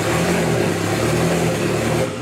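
A turbocharged Austin Mini GT-Four engine runs close by, a steady mid-pitched hum with a slight wavering rise and fall before it starts to fade at the end.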